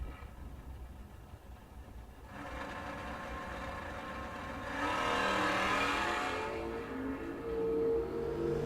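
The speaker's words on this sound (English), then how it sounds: "A blue Camaro of Moore doing the chasing against the blue Nova of Addis." Drag race run between a blue Camaro and a blue Nova at a door car event, engines roaring as a steady loud drone that swells mid-run and again near the end, heard from the stands without talk.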